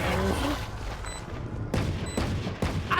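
Gunfire from a first-person shooter video game with Cypher on site: a run of several sharp, loud shots and bursts in irregular rhythm, close and layered over game ambience, with a couple of heavier impacts near the end.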